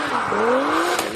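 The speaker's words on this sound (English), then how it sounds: "He's got the burnout and fire." A Toyota Supra with a 2JZ engine doing a burnout, its exhaust roaring steadily with a rising tire squeal sweeping up through the short burst, loud and close.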